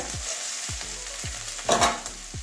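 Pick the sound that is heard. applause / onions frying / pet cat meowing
onions frying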